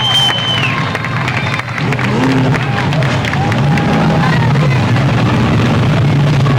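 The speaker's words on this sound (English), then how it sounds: "Nice round of applause for charging Charlie Cragen." Grandstand crowd at a speedway applauding and cheering a race winner, a loud continuous roar of clapping and voices with an announcer's voice and tonal background noise running underneath.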